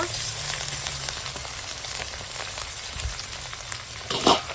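Steady hot-oil sizzle of chicken frying, with a crackling hiss throughout, moderately loud and close, with a brief louder splutter near the end.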